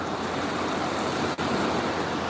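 Heavy rain pours down steadily on a sunny day, a dense continuous broadband hiss with one brief dip, close and loud with no talking.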